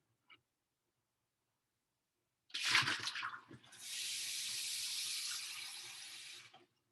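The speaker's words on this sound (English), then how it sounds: "I'm just going to toss this into the sink" Water tossed into a kitchen sink: a sudden splash after near silence, followed by a steady running, gushing pour lasting a few seconds before it stops.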